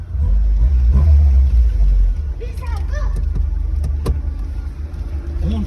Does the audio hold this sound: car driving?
yes